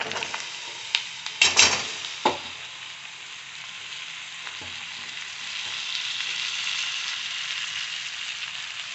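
Ridge gourd pieces going into a hot pan with turmeric, a couple of clattering drops followed by a steady soft sizzle that swells slightly toward the end.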